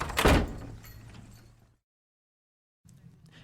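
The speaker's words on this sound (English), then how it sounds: "Close the door." An office door is shut, with a loud close thud near the start followed by a fading rumble and then silence; a low room tone comes back afterward, and no one speaks.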